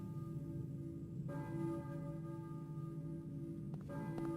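A church bell tolls in the PS1 horror game Silent Hill, a sustained ringing tone that begins partway through and stays steady, with faint game ambience beneath and no talking.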